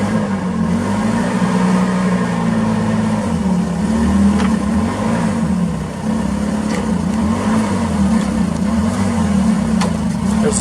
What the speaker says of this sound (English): There's the side shift action again.